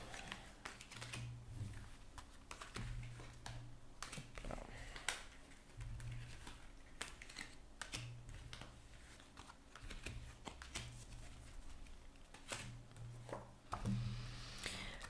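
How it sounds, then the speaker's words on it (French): Tarot cards gathered into a pile by hand, a steady stream of light clicking and tapping taps over a low, constant room hum, with a slightly louder flurry near the end. "je vais rassembler les cartes et puis on va commencer"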